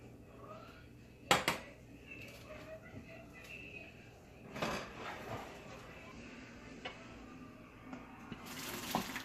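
Cold tap water runs over boiled egg noodles in a few short, faint splashing bursts, with quiet kitchen clatter between them.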